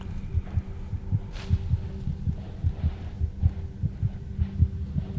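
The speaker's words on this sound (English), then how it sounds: "Why is my heart" Loud, steady heartbeat in the horror video game Among The Sleep, a continuous run of deep, evenly spaced thumps over a low hum, with no talking.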